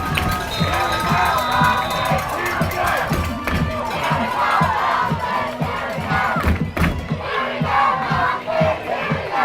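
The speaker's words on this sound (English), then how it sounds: "Listen to the crowd." Crowd cheering and roaring at a women's football game between the Pittsburgh Passion and DC Divas, a loud, sustained mass of voices with rising shouts throughout, near the end of a close game.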